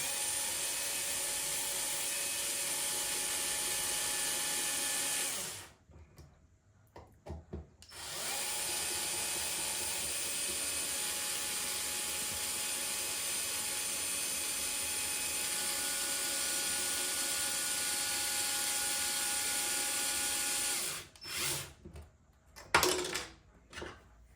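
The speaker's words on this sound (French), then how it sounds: "Et je visse à la visseuse." Power screwdriver driving screws into a chassis, a steady high whirring drone held for several seconds, then a brief pause and a second long run of whirring, ending in short bursts, close and alone.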